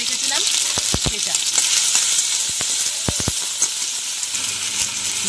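Crushed garlic and green chillies fry in hot oil in a kadai, a loud dense sizzle running throughout, broken by several sharp metallic taps of a spatula against the pan.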